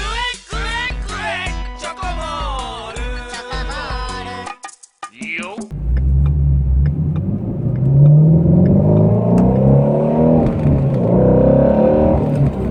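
A Ford Mustang GT350 fitted with a Pedal Commander pulls away after a brief voice, its engine swelling into a loud, rising growl that holds strong and close.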